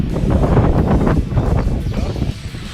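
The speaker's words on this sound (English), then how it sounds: "It's so windy today." Strong gusty wind buffets the microphone outdoors beside an off-road 4x4 project truck, a steady low roar that swells and eases throughout.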